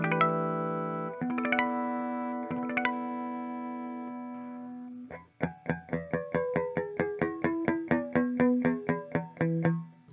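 A black Gibson Les Paul CM with a Floyd Rose bridge, played through a clean channel. Ringing chords and chiming harmonics sustain at first, then a rapid run of plucked, bell-like harmonic notes follows, loud and close.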